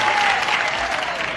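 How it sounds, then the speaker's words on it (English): Studio audience at a daytime TV game show breaking into loud, sustained applause and cheering, a dense wash of clapping that holds steady through the whole moment. "Now they're cheering, aren't they?"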